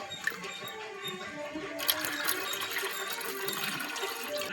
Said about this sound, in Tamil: அதனால் இதில் உள்ள தண்ணியெலாம் மட்டும் இதில் ஊற்றிடலாம்.